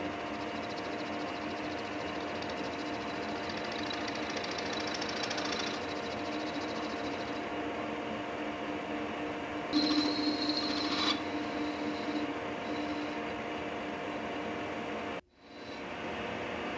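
Steady machining noise from turning a 15 mm step on a bicycle thru-axle tool, a continuous dense whir with a brief higher-pitched cutting whine midway, ending in an abrupt cut-off and spin-down near the end.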